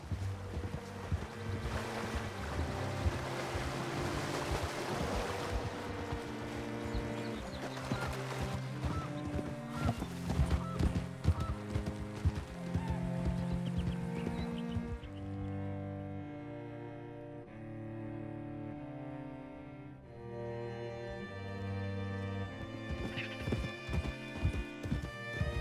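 Horse hooves clip-clop steadily while riding in the Red Dead Redemption 2 video game, mixed under a prominent orchestral music score throughout.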